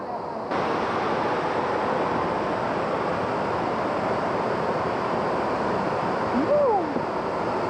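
The Huay Hoi waterfall in Mae Wang, Chiang Mai, makes a steady, dense roar of rushing water, broad and constant throughout. A brief rising and falling whistle-like tone appears near the end.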